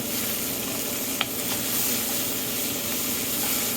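Garlic heats in a pot for venison stew with an even, continuous sizzle and a single faint click partway through.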